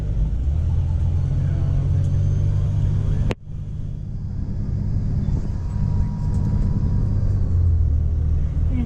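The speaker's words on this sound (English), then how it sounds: "It is very windy again," Strong wind at a Denali National Park bus stop, a steady loud low roar buffeting the microphone, with one sharp gust-like break near the middle before the rumble returns.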